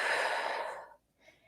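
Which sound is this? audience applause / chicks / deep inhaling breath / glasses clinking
deep inhaling breath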